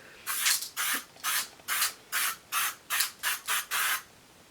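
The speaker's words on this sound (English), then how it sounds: "It does say it's a soft focus makeup setting spray." Soft focus makeup setting spray misted onto a face in about ten short, even hissing bursts, close and steady with brief gaps between pumps.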